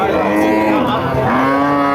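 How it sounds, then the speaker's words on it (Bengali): A large, bony dry cow at a cattle market gives one long, loud, close moo that lasts the whole moment, deep and drawn out with a slight rise at the end. "আপনারা শুনলেন একটা গরু বেশ বড় সড়ো গরু"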